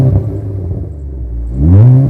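A 2019 Kia Forte LXS engine is revved after an oil change, a loud close rumble that dips and then swells into a rising rev toward the end of the short burst.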